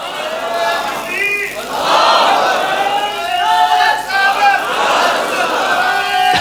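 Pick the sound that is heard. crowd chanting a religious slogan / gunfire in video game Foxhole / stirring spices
crowd chanting a religious slogan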